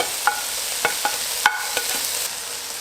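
Potato, leeks and other vegetables hiss softly in a frying pan while a utensil stirs them, giving several distinct clinks and scrapes over a close, even sizzle.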